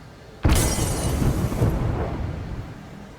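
Glass shatters in the video game Hunt: Showdown: one sudden loud crash, followed by a scattered tail of breaking debris that fades over a few seconds.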